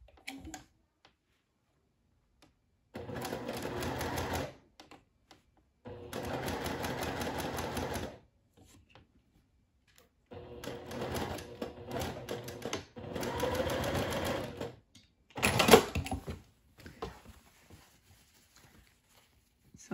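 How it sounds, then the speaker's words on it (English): A sewing machine stitches the armhole seams of a cotton sundress in several separate bursts of steady, rapid mechanical whirring, each a few seconds long with quiet pauses between, close by and moderately loud. "Now I've got both armhole seams sewn."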